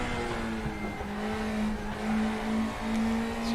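A race car brakes hard on track in RaceRoom, its engine holding a steady, close drone with slight dips in pitch, while tire scrub and squeal sound faintly beneath it.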